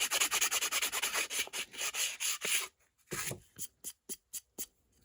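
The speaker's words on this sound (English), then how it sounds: "What I've got here is some 220 grit sandpaper." Rhythmic hand sanding of a ResinCrete cast edge with 220 grit sandpaper: quick rasping strokes, close and crisp, first in a dense run, then after a brief pause in slower, separate swipes.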